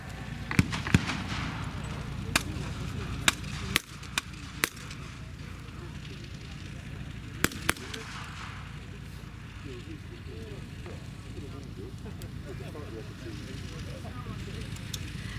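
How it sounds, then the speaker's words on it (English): A napalm strike burns through jungle in Vietnam War footage: a dense, steady roar of fire with a cluster of sharp cracks and bangs near the start and a few more mid-way, faint voice-like murmurs mixed in. "We're waiting for a napalm strike. And there it goes."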